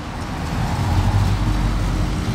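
A Chevrolet Corvette rolls past amid general road noise, its low engine rumble swelling briefly near the middle of a short, steady wash of traffic sound.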